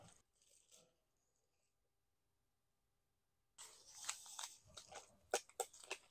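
A fish-shaped bungeoppang pastry, reheated on a stove at a winter campsite, is bitten and chewed with loud, crisp crunches close to the mic after a few seconds of near silence.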